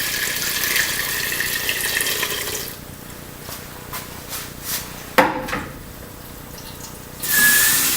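Fresh spring well water pours steadily into a pot of chicken soup for a few seconds, a loud rushing splash that then eases off into quieter trickles, drips and a few clunks of the pot.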